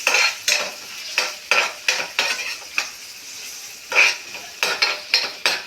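Tomatoes and curry leaves fry in a pan for an egg curry, a steady sizzle broken by repeated scraping strokes of a spoon stirring against the metal, close and fairly loud with no voices.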